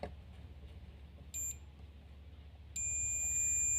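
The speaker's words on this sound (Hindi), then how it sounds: "कैपेसिटर जो हैगा हमारा बजर की साउंड दे रहा है" A multimeter's continuity buzzer sounds as probes touch a 10-volt capacitor in a faulty phone charger: a short high beep, a pause, then a steady continuous tone over low electrical hum.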